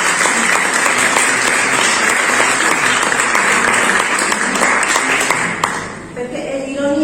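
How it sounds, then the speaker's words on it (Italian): A burst of sustained applause from a group fills most of the span, loud and dense, then tapers off as a voice begins speaking near the end. "Quindi le faccio un applauso."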